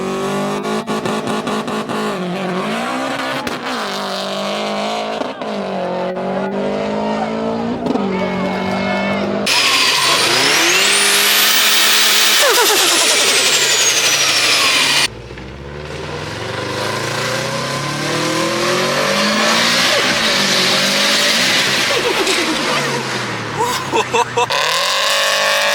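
A stock Subaru engine revs and accelerates at a drag strip, rising and falling whines with a sharp high-pitched pass in the middle, loud and close, with voices talking over parts of it.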